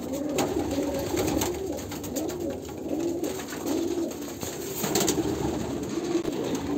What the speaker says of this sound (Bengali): দেখুন একটা লাল ফুল পায়রা